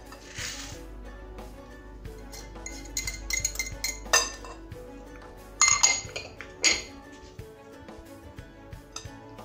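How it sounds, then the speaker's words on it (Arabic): An egg is beaten with a pinch of salt in a bowl: close, irregular clinks and taps of utensil against dish, with a few louder bursts of rapid clattering and quieter stretches between, no voices. "Donc je vais battre mon œuf avec une pincée de sel."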